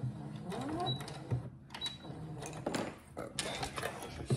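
A sewing machine runs in short bursts while stitching a needle-holder bracelet, switching between forward stitches and backstitches, with stops and restarts and a voice talking over parts of it.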